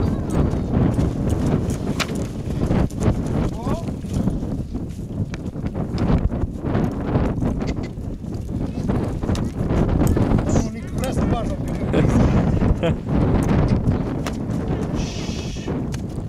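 Horses walk with steady clip-clopping hooves outdoors near Floresti, Cluj, over wind noise on the microphone, while people talk throughout.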